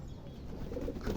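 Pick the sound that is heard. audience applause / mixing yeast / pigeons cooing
pigeons cooing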